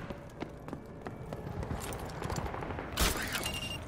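Gunfire in Call of Duty Modern Warfare 2 Remastered, rapid overlapping shots and impacts in a dense battle mix, with one louder burst near the end.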